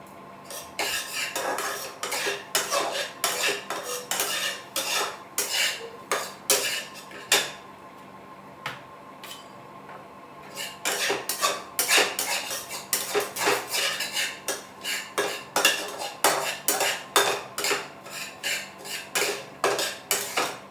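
A metal spoon stirs and scrapes semolina roasting in ghee in a pan for a dry-fruit sheera, producing rhythmic, close scraping strokes that pause briefly midway and then resume.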